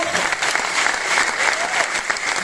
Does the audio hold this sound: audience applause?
yes